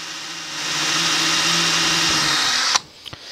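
A power drill spins a homemade wind turbine generator lighting a 75-watt bulb, with a steady whining motor hum for a few seconds, then stops abruptly with a couple of faint clicks.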